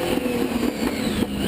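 Porsche 917K racing car engine roaring through its gears, a loud, raspy, continuous mechanical drone with slight pitch surges, close and without talk.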